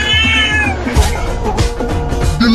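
A cartoon cat in a Hindi comedy cartoon lets out loud, drawn-out meows and wailing caterwauls up close, one after another with almost no pause.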